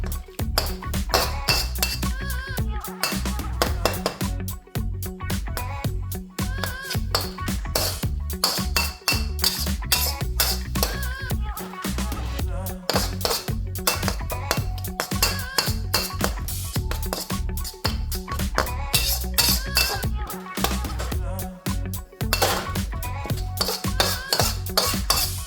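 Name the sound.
stirring Phad Thai in a pan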